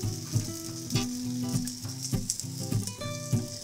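Figs sizzle steadily on a hot grill while being flipped, a bright frying hiss with repeated soft taps from the utensil, close and loud, while background music plays.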